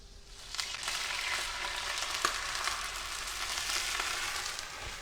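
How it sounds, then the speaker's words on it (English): Beef for a marinated filet mignon recipe sautéing in a hot pan: a continuous close sizzle and crackle with occasional stirring scrapes, steady and moderately loud, with no talk. "He's sauteing it in."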